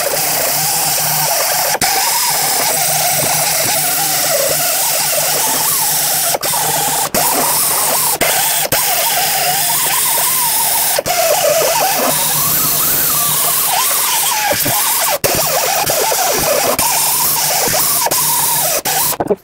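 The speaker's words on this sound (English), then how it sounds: "I'm going to use a sanding disc." Sanding disc grinding rust and scale off the exhaust flange on a 2007-2010 Chrysler Sebring during catalytic converter pipe replacement, a loud continuous whirring buzz with brief pauses throughout, close up and without talk.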